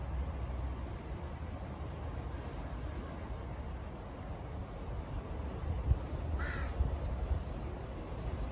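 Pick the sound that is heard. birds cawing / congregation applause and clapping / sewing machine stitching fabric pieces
birds cawing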